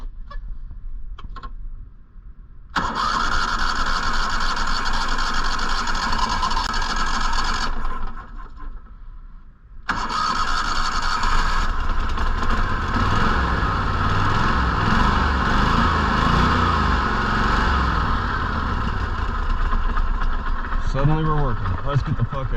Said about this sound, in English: all I know is the motor fired up